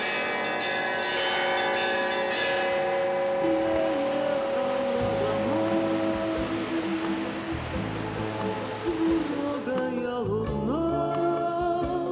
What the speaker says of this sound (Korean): 화음을 이루며 울리는 종소리가 유주노 사할린스크의 밤하늘에 퍼진다.